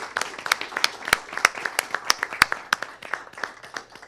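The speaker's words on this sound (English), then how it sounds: "If we give them a round of applause." Scattered applause from a small city council meeting audience, with distinct individual claps in an irregular rhythm that thin out toward the end.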